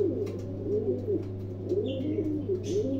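Pigeons coo close by in a loft, repeated soft rolling coos in a steady rhythm over a constant low hum, with faint higher chirps in the background.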